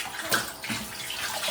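Tap water pours steadily into containers at close range, a continuous splashing rush with no voices over it.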